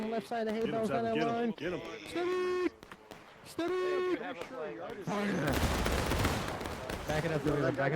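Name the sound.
musket volley in House Divided Civil War video game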